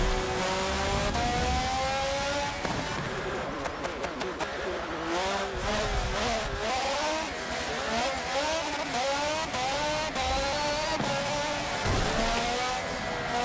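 Race car engine in Forza Motorsport 7 revving loudly and continuously, pitch sweeping up and down through downshifts and throttle blips, with a few sharp gear changes and brief tire noise; close and dominant throughout.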